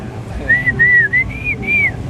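A person whistles close by, imitating a pet bird's song in a pet shop: a quick run of about five clear, high, gliding notes that rise and fall within two seconds.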